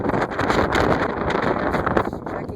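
Strong wind buffets the microphone outdoors during a search-and-rescue dog exercise, a loud, rough rumbling roar that gusts unevenly throughout.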